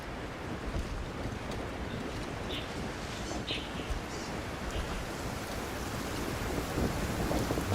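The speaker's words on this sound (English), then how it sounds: "It always rains when I go on an adventure." Steady rain pours in a Genshin Impact game scene, a dense continuous hiss with low rumbling thunder underneath, soft and even throughout with no voices.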